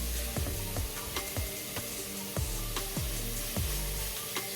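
Ground beef for chili hits a preheated hot pan, a steady sizzle broken by repeated scraping stirs of a utensil at a regular pace, close and fairly loud, no talking.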